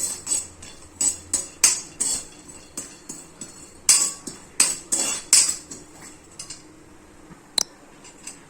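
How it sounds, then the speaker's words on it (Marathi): Dry coconut is roasted with whole spices in a hot kadhai, with a metal spoon scraping and clinking against the pan in a quick, uneven series of close taps and knocks that fades near the end. "आता मी आपले हे कढई गरम आहे तर ह्याच्यातच हे आपलं सुकं खोबरं भाजून घेणार आहे गुलाबी रंगावरच"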